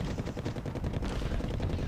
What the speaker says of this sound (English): But Abrams does have 2 machine guns, which really helps it suppressing